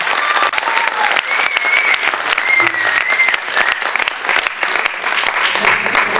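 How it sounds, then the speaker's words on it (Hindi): Loud, sustained applause from a crowd at an outdoor women's march, cheering on a singing group that performs women's liberation songs, dense clapping running steadily for several seconds with a faint voice underneath. "आप जोर से ताली बजाओ तो ये और अच्छा लगेगा।"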